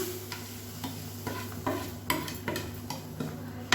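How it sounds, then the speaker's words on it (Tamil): Roasted semolina is stirred into boiling water in a pan for kesari, a spoon scraping and clicking in an irregular rhythm over a soft bubbling sizzle, close and fairly quiet. "சேர்த்துட்டு நல்லா கிளறி விட்டுக்கோங்க."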